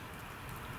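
Rain falls steadily outdoors at a monastery, a soft continuous patter with no voices.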